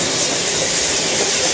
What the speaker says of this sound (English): Now we have one of our Welsh Highland Railway engines. This is a Garrett.